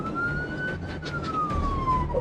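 A police patrol car siren wails during a pursuit, one long sweeping tone that slowly rises and falls. It sounds fairly close over road and engine rumble, with faint voices underneath.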